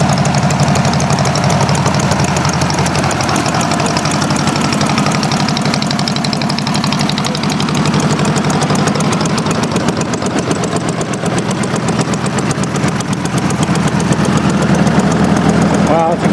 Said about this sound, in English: Got a bunch of generators on here.